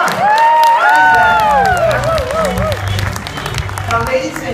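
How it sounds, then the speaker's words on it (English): Audience applause and cheering at a direct selling company event, loud and continuous clapping with shouts, whoops and rising-falling voices in the crowd, while a person talks over it. "so you round of applause, come on"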